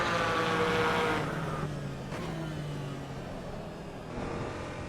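Porsche Cayman engine in the racing game Assetto Corsa Evo, a steady, thin engine drone that rises in pitch, drops on a shift and then builds again, with no one speaking over it.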